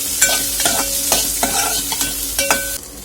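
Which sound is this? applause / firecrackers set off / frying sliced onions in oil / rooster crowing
frying sliced onions in oil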